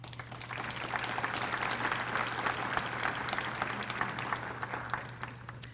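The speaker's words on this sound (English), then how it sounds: "So let's give you all a round of applause." Applause from an audience at a United Way kickoff event for Onslow County Schools, steady clapping from many people lasting several seconds over a faint constant low hum, tapering slightly at the end.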